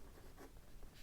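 A fountain pen nib scratches steadily across paper, close and quiet, with a soft continuous scraping texture throughout the brief moment.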